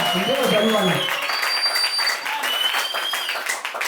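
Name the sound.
congregation applauding and cheering God in church service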